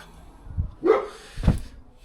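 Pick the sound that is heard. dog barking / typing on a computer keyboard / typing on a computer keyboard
dog barking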